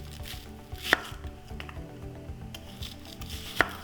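A knife slices an onion into rings for burgers on a cutting board, making two sharp distinct cuts spaced a few seconds apart over a quiet low hum, with soft rubbing in between.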